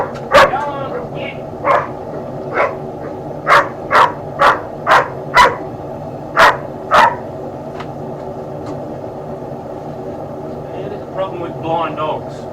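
A blind dog barks in a run of about ten sharp, evenly spaced barks, loud and close, with someone talking before and after and a steady background hum.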